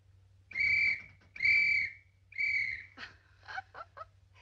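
A parrot mimics a police whistle with three loud, sustained shrill whistle blasts followed by a few shorter chirping notes, close and clear over a faint low hum.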